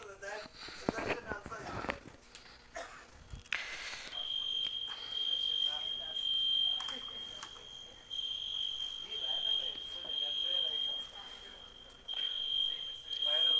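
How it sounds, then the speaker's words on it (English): A high, steady electronic alarm tone sounds continuously, like a smoke or fire alarm, starting a few seconds in, with voices in the room and scattered background noise around it. "Why such alarms?"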